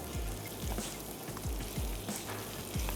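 Meat and yogurt frying in a karahi, a soft steady sizzle broken by repeated scraping strokes of stirring, fairly quiet and with no talk.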